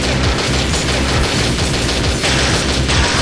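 Rifle gunfire in the Shogo shooter game rattles out as a loud, unbroken stream of rapid shots, dense and continuous for the whole stretch with no pauses.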